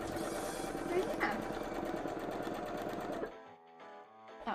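Sewing machine stitching stars onto cosplay fabric, a fast close mechanical whir that runs steadily and then stops, with people talking underneath.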